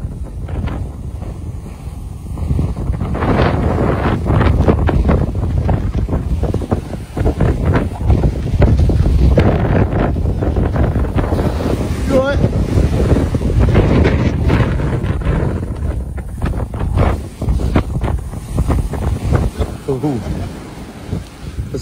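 Strong wind buffets the microphone on Jaywick beach at high tide during a storm surge after Storm Ciara, with continuous roaring gusts and crashing surf and occasional voices in the background.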